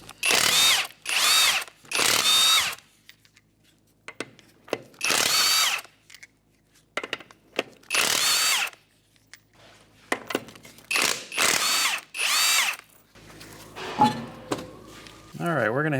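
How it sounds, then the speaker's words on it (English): Power impact tool spinning lug nuts off a 2013 Hyundai Elantra wheel with a 21mm socket, a series of loud close bursts of buzzing rattling whirr separated by short pauses, with some clinking near the end. "With a 21mm socket, we're going to remove our lug nuts and our wheel."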